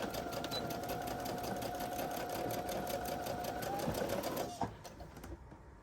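A sewing machine stitching a quarter-inch quilt seam, its needle chattering in a fast, steady rhythm close by for several seconds before slowing and stopping.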